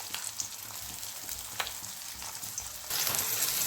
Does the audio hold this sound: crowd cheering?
no